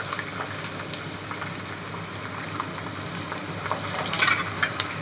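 Garlic fries in hot oil for a tomato pachadi tempering, giving a loud, continuous sizzle and crackle heard up close, with a burst of sharper spitting near the end.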